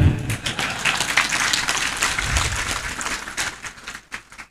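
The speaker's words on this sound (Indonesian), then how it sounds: "Kenapa Anda tepuk tangannya ragu-ragu?" An audience at a religious lecture gives loose, hesitant applause, a dense patter of clapping that thins and fades out near the end.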